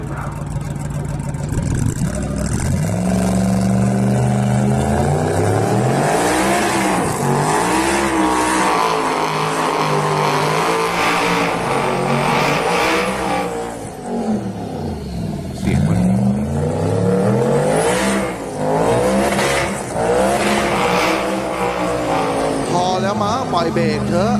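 Loud race car engines howl and rev repeatedly, pitch sweeping up and down as cars accelerate and pass, with a voice speaking underneath.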